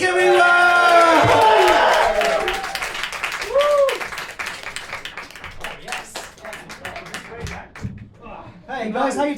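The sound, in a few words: audience applause and cheering at a comedy show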